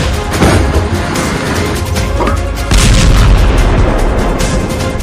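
Heavy booms of 155 mm artillery shells fired from a large towed gun such as the M777, loud and close, with a sharp blast near the start and a stronger sustained roar in the second half.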